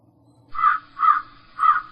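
Three loud, harsh crow caws in a row, evenly spaced, with a faint low background hum beneath them.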